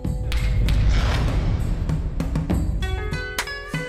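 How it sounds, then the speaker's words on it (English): Monks clap sharply by hand to open a debate at Tashi Lhunpo Monastery in Xizang: several crisp, loud claps spaced irregularly, set against a dense murmur of voices and courtyard noise. "The debate begins with hand clapping."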